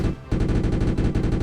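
Rapid cannon or machine-gun bursts from a tank in the Arms Trade Tycoon Tanks video game, a short pause then a loud steady stream of repeated shots filling the rest of the moment.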